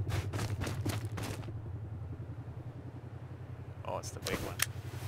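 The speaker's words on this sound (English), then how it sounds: "Another chopper coming." A helicopter in the video game Rust approaches with a steady, pulsing rotor thump and engine drone, while sharper in-game sounds break in over it.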